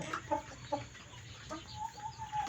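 Several chickens cluck nearby in short, repeated bursts on a farm with a quail house, with a quieter run of clucks toward the end and no talking.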